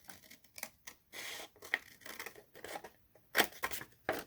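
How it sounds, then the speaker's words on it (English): Scissors snip through paper, cutting out a triangle for a scrapbook corner pocket, in a quick irregular series of close, crisp cuts with short gaps between them. "Cut out one of your triangles. from the corner to the middle,"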